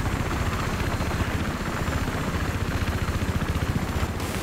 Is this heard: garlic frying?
no